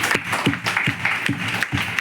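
An audience claps in honour of Krishnaswamy at a Telugu political meeting, giving a steady round of applause with a few distinct, evenly spaced louder claps standing out over the crowd.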